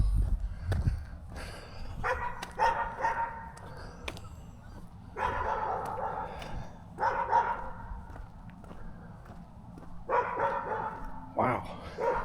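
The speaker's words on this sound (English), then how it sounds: "Man, that's like a super loud dog." A loud dog barks in repeated bursts, a few sharp barks at a time with pauses between, heard at a middle distance over a low background rumble.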